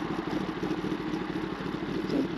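A Kawasaki ZX10R motorcycle engine drones steadily while riding, a continuous mid-pitched hum with wind rush, close and even.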